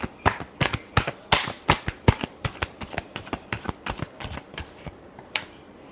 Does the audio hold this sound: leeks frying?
no